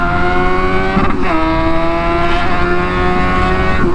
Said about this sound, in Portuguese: a resposta de reaceleração. Olha. E os pipocos do escape.